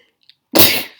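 A single sharp sneeze bursts out close and loud after a near-silent moment, with a short faint intake just before it.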